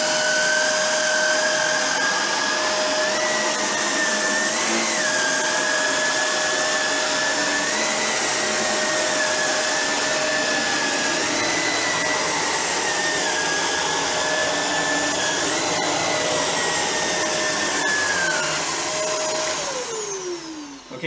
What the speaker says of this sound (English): I can already tell that it has a lot more suction than our old vacuum cleaner did